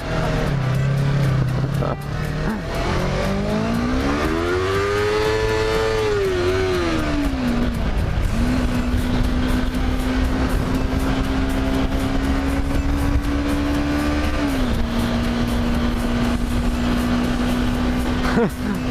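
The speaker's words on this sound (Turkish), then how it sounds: "Gaza açtım kaymaya başladı." A motorcycle engine revs hard on the throttle during a canyon ride, its pitch climbing and falling before holding at a steady high drone, loud and close over constant wind rush, with a voice briefly audible.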